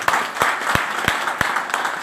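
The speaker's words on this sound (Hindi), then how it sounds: "चाहूंगा एक जोरदार ताली बजा दो।" An audience claps in a strong, rhythmic unison beat, about six evenly spaced loud claps over a steady wash of scattered applause, close and bright.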